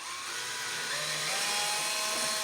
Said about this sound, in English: Let's put our bigger bit into the drill. And then we'll drill it very slowly.